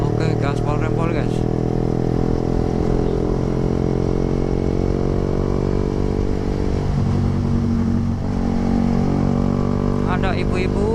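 A Yamaha R15 V3 motorcycle pulls away hard at full throttle, its engine note climbing through the revs loud and close, with a brief dip around a gear change before rising again.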